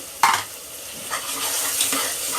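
A steady hiss of ginger garlic paste sizzling in a hot pan, with a sharp clink of a utensil near the start and light stirring scrapes.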